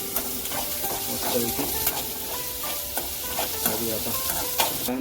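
Onion frying in a pan gives off a continuous sizzle, with scraping stir strokes and occasional clinks of the spatula throughout, fairly close and steady.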